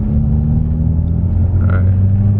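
A Mitsubishi Evo (Evo X or Evo 8) street racing in second gear at around 40 mph, heard as a loud, steady engine drone and low rumble from inside the car, with no talking.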